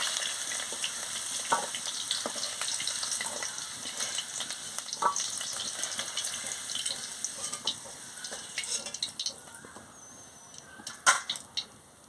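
Okra frying in a pan after potatoes have been fried and lifted out, giving a steady, close sizzle with small scattered crackles and a few brief louder clinks near the end; no one speaks.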